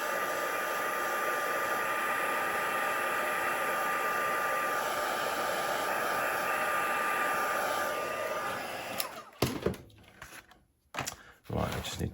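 A hair dryer blows a steady, loud, close hiss over a stamped card to dry the ink, running continuously before cutting off, followed by brief handling clatter.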